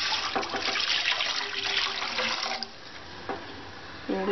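Water poured from a vessel into a cooking pan while sambar is made, a steady splashing, trickling pour that runs about two and a half seconds before cutting off, then brief faint clinks.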